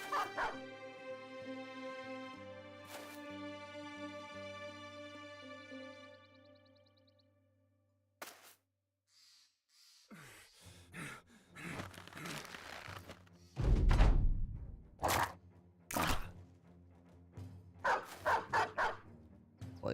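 Hound dog in the Battle Brothers game barking and yipping in loud, close bursts after a stretch of music, several sharp barks spread over the second half amid other battle sounds.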